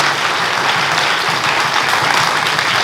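A conference audience at PyCon UK's lightning talks claps in a dense, sustained burst of applause, steady and loud throughout.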